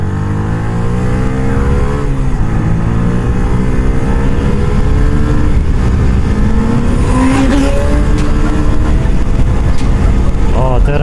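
A Yamaha R1 motorcycle riding a wheelie in city traffic, its engine a loud, steady roar with rising and falling revs throughout, close to the rider; voices are faintly present under the engine.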